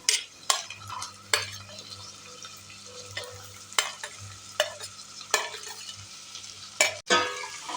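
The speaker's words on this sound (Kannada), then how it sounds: "ಇವಾಗ ತರಕಾರಿ ಎಲ್ಲ ಚೆನ್ನಾಗಿ ಫ್ರೈ ಆಗಿ ಎಣ್ಣೆಯಲ್ಲಿ" Potato, beans, carrot and peas for vegetable pulao stir-fry in oil, with a low sizzle under regular spatula scrapes and knocks against the pan, close and distinct.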